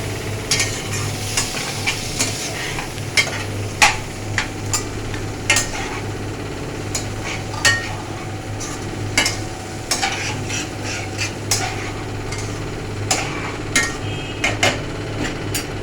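Boiled rajma stirred into a frying pan, a spoon scraping and knocking against the metal in repeated irregular strokes over a low steady sizzle, close and alone.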